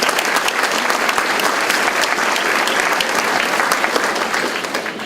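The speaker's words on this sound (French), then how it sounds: "J'aimerais qu'on se donne une bonne main d'applaudissements" A community hall audience at a seniors' gathering applauds warmly, dense sustained clapping from many hands close by, tapering slightly at the end.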